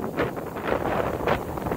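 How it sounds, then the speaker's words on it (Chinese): Wind gusts in rising and falling surges at a steady, fairly loud level, with broadband rushing and no speech. "起风了"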